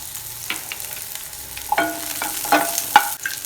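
Garlic cloves are sautéed in a pan for urad dal chutney, with soft frying under scattered stirring scrapes and light utensil clinks across a few seconds.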